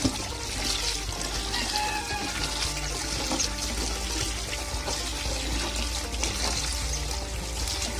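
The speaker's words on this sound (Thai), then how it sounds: "ล้างเลยครับล้างน้ำออกนะครับ" Running water splashes and pours steadily as bamboo shoots for souring are rinsed, with a continuous close trickle and gurgle from a tap and occasional clatters; no voice is heard.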